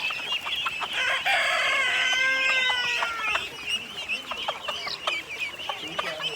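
Chickens clucking and squawking close by, with a rooster crowing partway through over busy farmyard noise.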